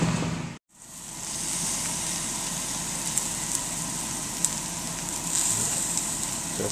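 Liver frying in a pan gives a steady, dense sizzle that runs continuously at moderate loudness, broken only by one brief silent gap near the start, with a few faint clicks on top.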